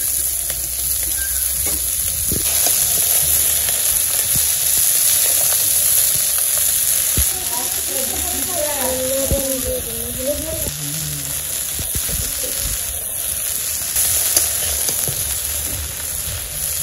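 Fish sizzles steadily in hot oil in a home village kitchen, a dense, continuous frying hiss that stays close and fairly loud throughout.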